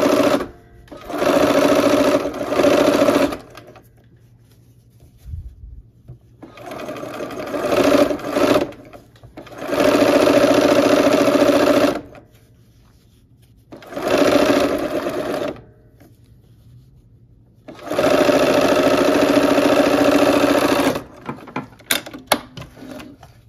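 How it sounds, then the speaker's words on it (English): Sewing machine stitching the seam of a quilt block, loud close motor whirring in several bursts of a few seconds each, separated by short pauses and a few light clicks. "let's sew this last seam for this block"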